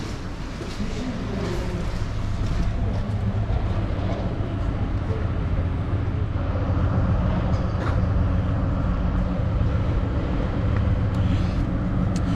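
Train idling at a railway station in Latvia, a steady loud low engine drone with a constant hum and background station noise, close by and unbroken.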